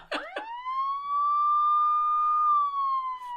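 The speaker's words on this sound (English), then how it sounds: "Yeah, you should hit the siren." A police siren wails in one long, loud, steady tone that rises and holds, preceded by a couple of short electronic chirps.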